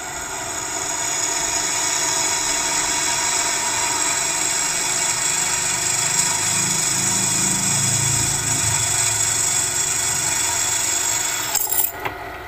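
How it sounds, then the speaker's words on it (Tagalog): A drill press boring through steel in a workshop, a steady high-pitched motor whine with a grinding cut underneath, close and continuous for most of the stretch, no talk. "Kasi dito sa drill press, napakaganda niyang gamitin."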